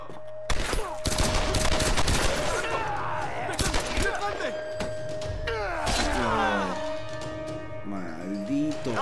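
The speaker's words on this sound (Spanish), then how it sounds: "Disparos" Rapid bursts of gunfire in Tomb Raider Definitive Edition on PS4 crackle amid explosions and chaotic effects, loud and continuous, with voices talking over the action.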